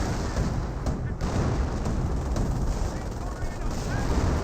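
Artillery shells and gunfire in a World War II strategy game, Company of Heroes, form a dense, continuous rumble of explosions with a steady loud roar and no single blasts standing out.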